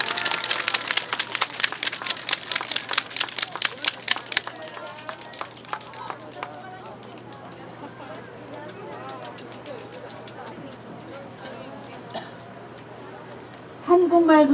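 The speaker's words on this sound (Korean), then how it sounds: "네, 여러분 다시 한번 박수 드리도록 하겠습니다." Clapping from a crowd at an outdoor weekly protest rally rings out in the first few seconds and then thins into scattered claps under continued talk and street noise.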